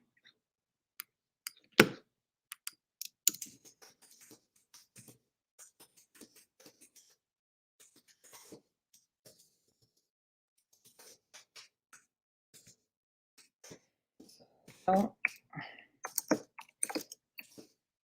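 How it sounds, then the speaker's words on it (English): Quiet, irregular keyboard typing: scattered clicky keystrokes in short bursts with pauses, close but soft, and no talking. "Sorry about the typing"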